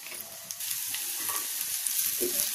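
Chopped onions fry in a tablespoon of hot oil, a steady close sizzle with light crackles and occasional stirring scrapes, no voices.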